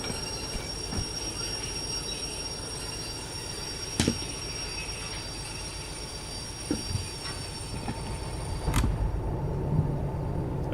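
A steam locomotive running in the Derail Valley train simulator gives a steady, loud rolling rumble with rhythmic wheel clatter, a few sharp metallic clanks and a high, sustained whine over the top.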